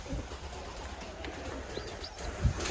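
Pigeons coo softly on a farm in Edmonton, Canada, with a faint low murmur under steady background noise and a brief louder coo near the end.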